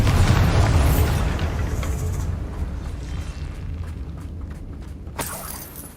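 A Bombarda spell blast in Hogwarts Legacy bursts loud and close at the start, then its broad rumbling roar slowly fades over several seconds, with a brief sharp crackle near the end.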